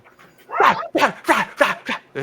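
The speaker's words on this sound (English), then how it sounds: "Isn't that the most annoying sound in the entire world? A dog that just" A dog barks and whimpers in a rapid string of sharp yips and whiny cries, about six close, loud bursts in quick succession.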